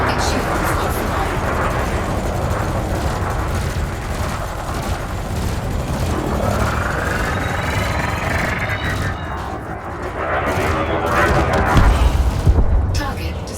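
Ship weapons in Elite Dangerous Odyssey fire in a dense, continuous roar of rapid shots and booming impacts, building to a target explosion near the end, loud and close throughout.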